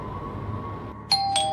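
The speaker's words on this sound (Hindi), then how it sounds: "दरवाजे की घंटी बजी" An electronic doorbell gives two clear, bright chimes in quick succession, close and ringing out briefly over a low room hum.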